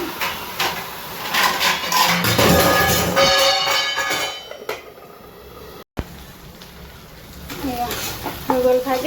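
Vegetables for bhaji are stir-fried in a pan at close range, with a steady sizzle broken by scraping and clinking of a utensil against the pan. The sizzle grows quieter toward the end, where a voice is briefly heard.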